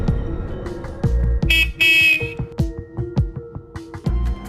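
A car horn honks repeatedly in short, insistent bursts with brief gaps, loud and close, mixed with a few harsher tones and a busy rhythmic background, with no speech over it.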